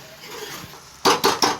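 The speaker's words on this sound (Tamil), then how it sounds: "இப்போ இன்னும் நல்லா கிண்டிக்கலாம்." Tomato thokku is stirred in a pan after a quiet moment, followed by three sharp, close scraping clanks of a utensil against the pan.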